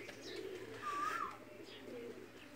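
A pigeon landing on a rooftop, with a brief bird call rising over soft outdoor background noise and faint distant activity.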